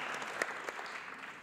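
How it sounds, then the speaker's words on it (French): Brief burst of audience applause at a French panel discussion on media and optimism, dense and steady clapping at moderate level, with no voices heard. "Merci de l'applaudir."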